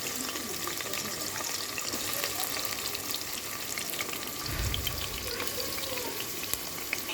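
Onions frying in soybean oil inside a pressure cooker, a dense steady crackling sizzle close by with a low soft thump midway.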